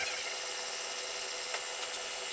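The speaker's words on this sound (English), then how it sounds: "So here I am doing some water sanding with a 600" A steady, hissing scrape of 600-grit sandpaper wet sanding back and forth over a surface, continuous and close, with no talking.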